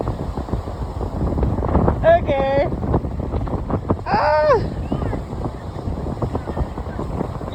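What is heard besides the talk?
wind blowing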